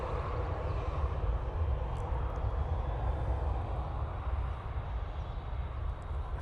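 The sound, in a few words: Boeing 737 jet aircraft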